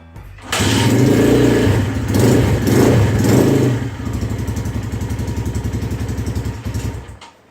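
A Storm motorcycle is cold-started with a kick, catching with loud revving bursts before settling into a steady, thumping idle; nobody speaks.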